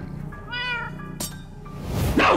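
A cat in the video game Minecraft Story Mode gives one clear, drawn-out meow up close, followed by rustling game sounds, with no speech.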